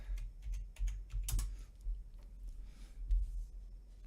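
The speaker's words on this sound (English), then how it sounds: "Started typing what I was saying." Quiet clicking of computer keyboard keys in uneven bursts, fairly close, with low background rumble and no speech.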